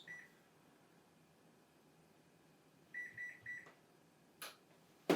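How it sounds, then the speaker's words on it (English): An oven timer gives a short electronic beep, then a quick run of three beeps as it is set for baking rhubarb scones, heard clearly over a faint room hum, followed by a couple of small clicks. "I'm going to set the timer."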